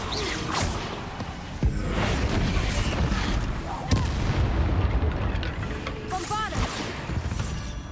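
Spell explosions in Hogwarts Legacy: a dense run of booming, crashing blasts and whooshes fills the clip, with a sharp loud burst near four seconds and shrill magical tones near the end, alongside a voice.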